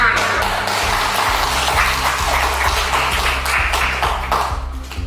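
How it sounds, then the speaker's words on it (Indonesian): Hands clap in a seminar audience at a multi-level-marketing business talk, a loud, close burst of applause with sharp individual claps over a low hum, trailing off at the end. "Tepuk tangan."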